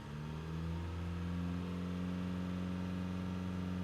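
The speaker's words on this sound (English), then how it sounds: "So let's rev it up." A 2012 Mitsubishi Outlander engine with a DPF high-temperature and soot accumulation fault revs up close by, a steady loud drone with strong low harmonics that holds and rises slightly across the stretch, with no talking.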